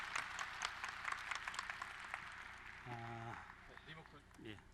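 An audience at a youth forum mentoring event applauds to welcome a company chairman to the stage. The steady patter of many hands runs under a voice that rises near the end as the clapping thins.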